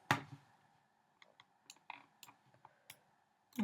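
Sharp, quiet computer mouse clicks come in an irregular series of about a dozen during After Effects editing, close and isolated against near silence.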